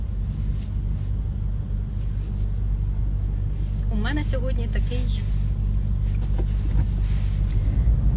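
Car crawling in a traffic jam, a steady low engine rumble and cabin drone throughout, with someone speaking briefly over it.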